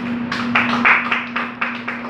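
Congregation applauding at a Pentecostal church service, a broad wash of clapping with a steady low hum underneath throughout.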